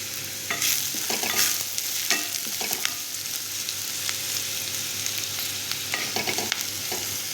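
Chilli powder and a pinch of turmeric roast in a little oil in a pan, giving a steady close sizzle broken by irregular scraping stirs of a spoon across the pan.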